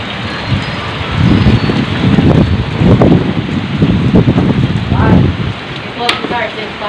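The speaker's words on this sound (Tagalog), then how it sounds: "gauntat-untat siya ang uyop sang hangin, upod sang sining ulan." Strong typhoon wind gusts roaring with rain, a loud continuous rushing noise that swells and buffets against the microphone, with a faint voice briefly audible.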